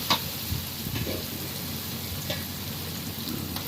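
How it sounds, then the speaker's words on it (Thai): Clams and chili paste stir-fry in a hot pan, giving a steady, close sizzle with occasional sharper clicks and scrapes as the food is stirred. "ผัดให้มันหอมก่อนครับ"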